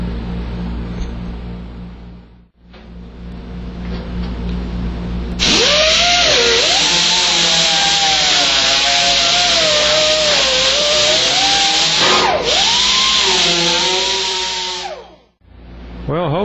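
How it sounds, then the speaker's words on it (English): A small grinder works metal on a 1979 El Camino project car, a loud sustained whine with wavering pitch running about ten seconds after quieter shop noise, briefly interrupted once. "I probably have to grind a little bit off as I go."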